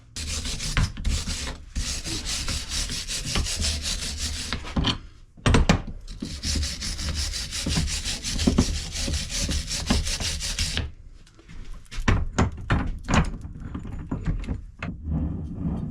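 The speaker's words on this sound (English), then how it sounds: "I got to sand the backside, or file it." Sanding or filing on the backside of a boat trailer hub: steady, close rasping strokes run continuously for several seconds with brief pauses, then shorter scraping bursts near the end.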